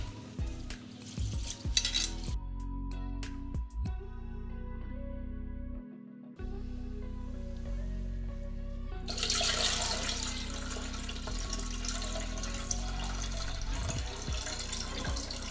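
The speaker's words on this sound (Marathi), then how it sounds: "मी 4 पाण्याने स्वच्छ तांदूळ धुवून घेतले" Rice is washed again in fresh water, with a burst of pouring water, splashy swishing and rubbing, a quieter stretch, and then a long loud rush of running water over the grains.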